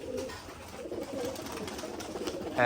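Soft, throaty pigeon coos roll on in low repeated phrases at a pigeon farm, close and fairly steady, with no talking over them.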